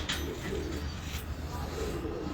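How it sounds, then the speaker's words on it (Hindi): Pigeons at a gudda pigeon breeder's loft coo in low, soft, repeated calls, close by, over a busy background with a few brighter chirps. "ये कबूतर बहुत उड़ा रहा है बच्चे"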